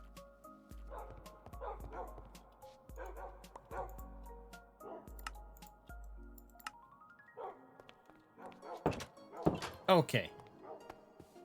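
Dogs in the Minecraft mod TerraFirmaCraft bark and yip in a run of short woofs, close and fairly loud, mixed with game thunks and someone speaking briefly.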